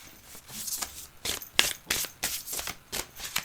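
A deck of tarot cards is cut and shuffled by hand, producing a series of quick papery riffles and slaps in an irregular rhythm, close and fairly loud, with no talk.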